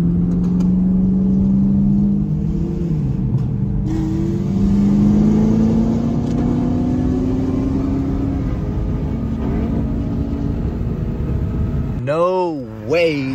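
A cammed Corvette C6 Z06 V8 accelerating hard in a street race against an M4, its engine note climbing through the gears, loud and close, ending with an abrupt downshift and a brief burst of revs.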